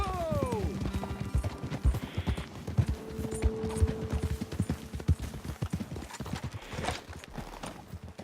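Horses in the video game Red Dead Redemption 2 gallop with fast, steady hoofbeats that continue throughout, and a whinny rises near the start over the running rhythm.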